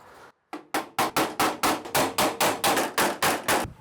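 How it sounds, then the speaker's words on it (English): A small hammer knocks a bump out of the handle rod on a 2000–2006 Toyota Tundra tailgate: about a dozen sharp metallic taps in a steady, even rhythm, close and loud, after a brief faint lead-in. "I'm gonna use this little hammer to try and get rid of that bump."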